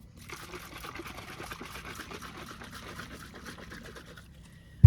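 A battery-powered pump on a large water jug runs with a soft electric whir while water pours and trickles steadily into a container for several seconds at a campsite beside a Jeep Wrangler, then stops with a brief knock.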